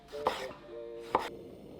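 Tomatoes are cut into cubes with a knife on a board, giving two sharp, distinct chops about a second apart over a soft, faint steady hum.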